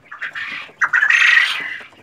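Young quail chicks in a brooder let out a few loud, close squawking calls in quick bursts, with a short gap before a longer call.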